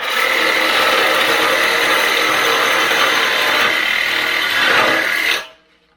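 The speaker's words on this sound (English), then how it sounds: "I'm going to try and finish with the Sawzall" A Sawzall reciprocating saw cuts through a metal rock slider, a loud, harsh, continuous buzzing rasp held close for several seconds before stopping abruptly.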